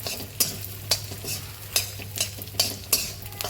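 Halvasan fries in very hot ghee with a soft bubbling sizzle, while a spoon scrapes and taps the pan about every half second in a close, repeated rhythm.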